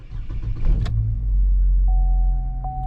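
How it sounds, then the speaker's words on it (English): A 2010–2017 Chevy Equinox engine catches with a short crank, then settles into a steady low idle rumble nearby, with a faint electronic tone chiming in. "The car runs."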